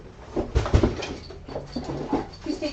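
Coco, a female dog, lets out a string of soft, uneven whimpers and whines close by, in short bursts broken by brief pauses, with faint rustling between them.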